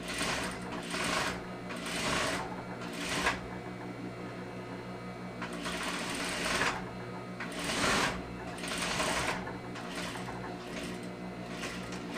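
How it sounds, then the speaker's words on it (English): A sewing machine stitches a separating zipper seam onto a facing, running in steady whirring bursts that speed up and ease off, close and moderately loud, with faint hum between runs. "stitching this time where the seam allowance line is, directly onto that"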